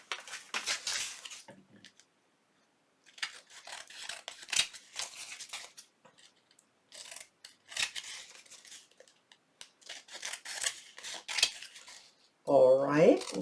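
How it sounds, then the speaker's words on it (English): Scissors snip repeatedly through folded cardstock while making a lace-accent tag for a junk journal, a close run of crisp cuts with short pauses, and a few louder rustles and clatters near the end. "I'm going to fold my card, and I'm going to just cut it out."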